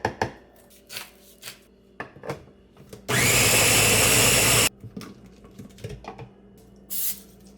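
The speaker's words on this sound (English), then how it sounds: "These are all going into my blender." A countertop blender whirs loudly for about a second and a half as it blends baked oats ingredients. Scattered knocks and clatter of kitchen handling come before and after.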